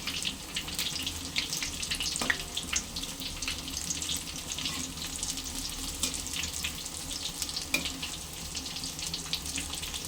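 Cluster bean pakodas frying in hot oil give a soft, continuous bubbling crackle with scattered pops, steady and fairly quiet throughout, with no voices.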